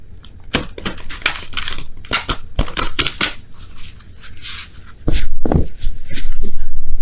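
Large oracle cards are shuffled by hand in a series of quick, close papery riffles and slaps, growing louder and denser toward the end, with no talking.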